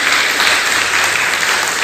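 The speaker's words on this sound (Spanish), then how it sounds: "Un aplauso fuerte para Dios." Loud, dense applause from a church congregation honoring God, a steady wash of many hands clapping throughout with no pauses.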